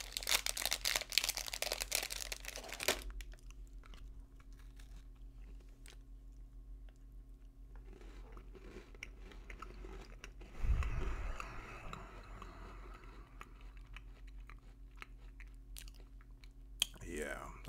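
A butter cookie combined with a truffle is eaten close to the mic, with soft crunchy bites and quiet moist chewing, a faint crinkle and a few clicks, while someone talks quietly in places.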